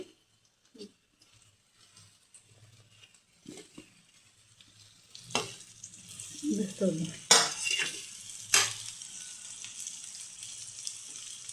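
Potato pieces go into a pan of capsicum curry and are stirred. A quiet stretch with a few faint taps leads to louder sizzling, a metal spoon clanking against the pan, and scraping strokes nearby.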